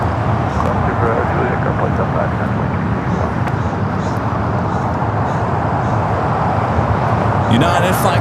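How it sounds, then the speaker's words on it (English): A United Airlines A321neo taxiing across runway 25 right at LAX, a steady broad engine rumble heard from a distance that holds level throughout under continuous background noise. "United flight coming in from Chicago here, flight 2361 and A321neo, now crossing over 25 right."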